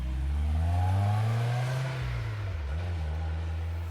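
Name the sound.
white Hyundai Elantra car driving away at high speed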